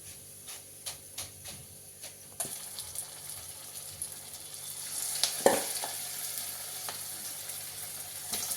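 Cauliflower pieces deep frying in oil for gobi 65, a soft steady bubbling sizzle with a few light clicks early on and a brief louder splash midway, fairly quiet and without speech.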